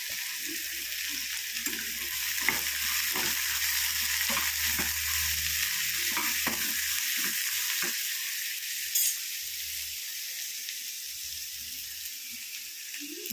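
Coconut pieces fry and crackle in a pan of Kerala-style prawn curry, with a steady sizzle under repeated scraping and clinking stirs close by.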